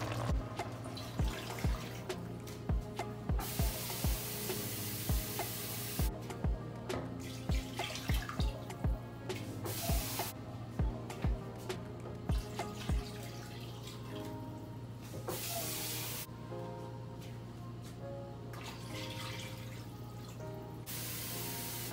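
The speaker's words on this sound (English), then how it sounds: "I add 5 cups of water because the size of my pot" Water is poured into a pot of browning onions and pot roast, giving a faint, steady run of rhythmic splashes and drips that gives way to a smoother, continuous flow.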